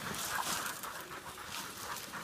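A hunting dog pants heavily right after a boar hunt in North Florida, giving quick, breathy rhythmic gasps with a faint whimper, close and continuous over about two seconds.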